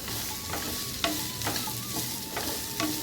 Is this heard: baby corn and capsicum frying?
yes